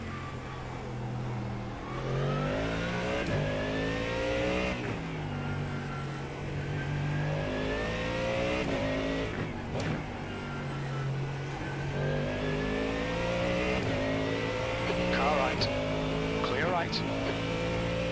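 A Porsche GT3 race car in iRacing revs hard and climbs through its gears, the engine note rising again and again with brief dips at each shift. The racing sound runs loud and steady throughout.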